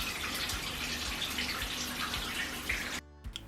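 Water runs steadily from a shower or tap in a university bathroom while hair is washed, a continuous close splashing hiss that cuts off abruptly near the end, followed by a couple of faint drips.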